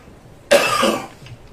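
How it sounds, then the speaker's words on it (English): One short, sharp cough bursts out close by and fades quickly, with near silence around it. "He's coughing so much now"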